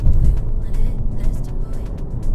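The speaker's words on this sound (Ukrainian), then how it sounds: "ми навіть зараз їдемо там 50 км на годину, і ви нажали в пів газу" Steady engine and road drone inside a Volkswagen Passat B8 sedan with a 1.6 diesel, cruising around 50 km/h at half throttle, loud and continuous throughout.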